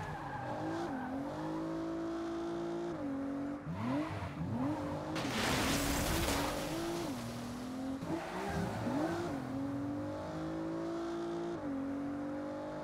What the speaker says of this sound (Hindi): वैसे ड्रिफ्ट अच्छी है इस गाड़ी मतलब इस गेम की देख रहे हो